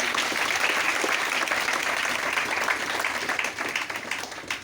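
Audience at a business seminar bursting into sustained applause, a dense wash of many hands clapping steadily for several seconds before slowly thinning toward the end.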